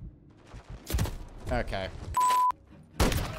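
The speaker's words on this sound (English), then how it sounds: "I can't see where I'm getting shot from." Gunfire in the first-person shooter Modern Warfare 3 campaign, several loud bursts of shots with a brief electronic tone between them, mixed with speech and in-game radio voices.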